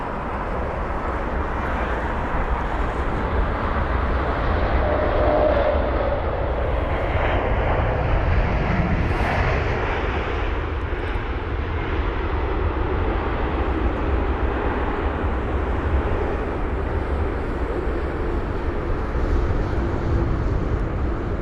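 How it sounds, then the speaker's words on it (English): A three-year-old Saudia Boeing 787-10 Dreamliner, arriving from Jeddah, lands at London Heathrow: a broad, continuous jet roar at moderate distance that swells and rumbles steadily for the whole stretch, with no voices. "It's flight number SV155 from Jeddah"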